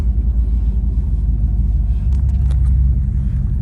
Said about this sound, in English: This truck is really quick for what it is. It's made me rethink what a little 318 can do.